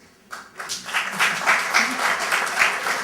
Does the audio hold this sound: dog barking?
no